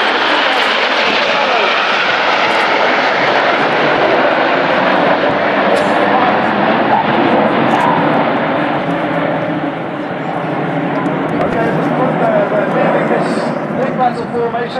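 Red Arrows jet aircraft fly a full display over Jersey with a loud, continuous broadband engine roar that holds steady for the whole stretch, and an announcer talks over it.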